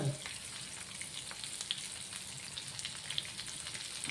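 Red kallur fish shallow-frying in a fair amount of oil, a continuous soft crackling sizzle with scattered pops, steady and close throughout.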